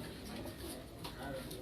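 Red jaaldar pigeons coo softly and continuously in a loft, a low steady murmur of several birds with faint voices in the background.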